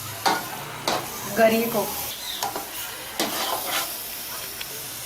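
Grated carrot halwa is stirred and roasted in a pan, with sizzling and scraping strokes repeating every second or so under a voice speaking.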